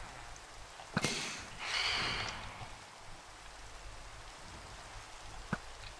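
Steady rain patters in a video game, a soft even hiss that fills the clip, broken by a few sharp clicks and a brief louder swell early on, with no talking.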